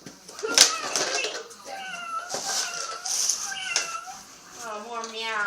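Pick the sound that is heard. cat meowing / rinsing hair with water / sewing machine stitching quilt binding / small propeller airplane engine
cat meowing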